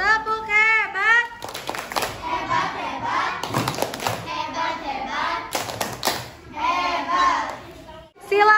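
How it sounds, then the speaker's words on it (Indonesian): A primary school class of children in Indonesia performs a rhythmic clapping chant, with bursts of hand claps and thumps interleaved with their chanted voices. The chant ends in a final clap and calls from the children. "Tepuk hebat."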